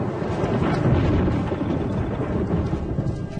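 A thunderstorm over dry African grassland, with a deep rolling rumble of thunder over steady heavy rain, loud and continuous with no voices.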